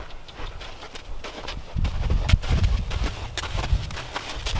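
A horse's hooves clip-clop on the ground as it walks during groundwork, a series of close, fairly loud thuds in an uneven rhythm that picks up partway through.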